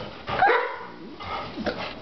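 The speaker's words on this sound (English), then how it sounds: "There's a barker." A dog at a dog farm with many dogs and puppies barks close by, giving a couple of quick, sharp barks with yelps over about two seconds.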